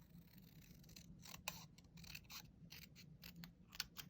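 Scissors trim cardstock for a handmade birthday card, a run of faint, close, crisp snips and light paper scrapes.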